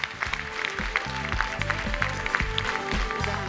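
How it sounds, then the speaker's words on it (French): An audience at a stage event applauds, a dense, steady clatter of clapping that keeps up the whole time, with a voice briefly heard over it. "Vous l'applaudir, s'il vous plaît"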